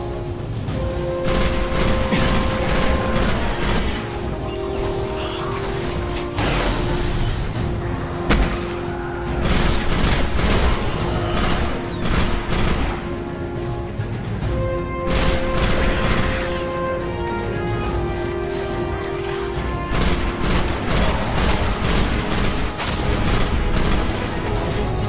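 Rapid bursts of pulse rifle fire in Destiny, loud, close and almost continuous across the whole stretch, with echoing impacts and layered game music underneath.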